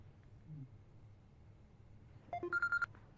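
A phone rings briefly near the end of an otherwise quiet indoor room, a short burst of bright repeated electronic tones after a low background hum.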